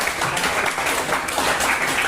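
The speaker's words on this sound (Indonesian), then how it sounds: "tepuk tangan untuk Jessica" Classroom applause for a student after she answers during a physical education lesson on the long jump, a dense steady patter of many hands clapping throughout.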